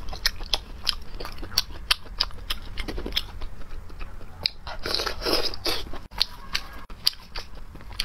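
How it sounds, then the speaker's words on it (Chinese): Close-up chewing and biting of ring sausage dipped in a spicy sauce, with repeated sharp crunchy bites and wet mouth sounds at a steady rhythm and no talking. "我们今天来吃一个网红的圈圈肠和肚包肉，迟到的圈圈肠，蘸上我的秘制蘸料"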